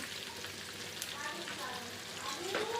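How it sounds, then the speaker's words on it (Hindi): Frozen fish fries in a pan with a soft, continuous crackling sizzle, fairly quiet and close, with faint brief voice sounds in the background. "मेरी फ्रोज़न फ़िश ही है जो कि मैं फ्राई कर रही हूँ।"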